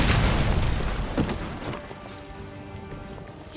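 A deep booming burst from fireworks in Marvel's Midnight Suns, loud at the start and then rumbling away into a fading tail.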